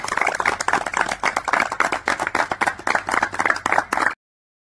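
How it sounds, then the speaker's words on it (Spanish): Crowd applause for a group of volunteer firefighters in Santoto, dense continuous clapping from many hands that swells and pulses for about four seconds, then cuts off abruptly. "un fuerte aplauso para los bomberos voluntarios de Santoto"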